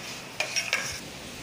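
A homemade neem soap base is stirred and cooked in a pan, giving a quiet background simmer with a few brief utensil scrapes and clinks.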